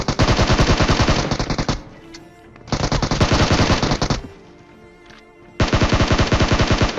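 Shotgun and automatic gunfire in a battle royale shooter, delivered in three long, loud rapid bursts separated by short lulls with faint background game sounds.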